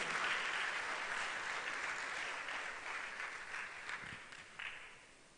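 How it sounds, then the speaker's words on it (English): Applause from the audience at a UN peacekeeping ministerial meeting, sustained clapping that gradually fades toward the end. "Shall we give our gracious host another round of applause?"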